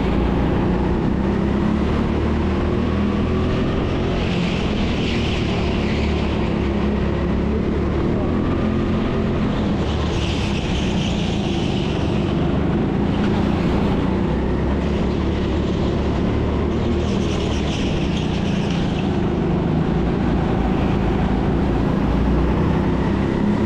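Indoor go-kart engine at TeamSport Sheffield during a heat race, a constant loud droning buzz that rises and falls with throttle through corners and straights, with someone talking over it throughout.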